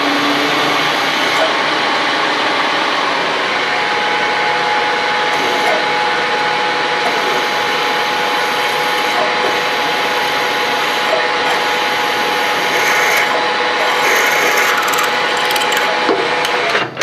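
A through hole being drilled on a South Bend 13-inch lathe: a steady, loud machine whine and grinding hum running continuously, with a faint tonal drone underneath and no pauses.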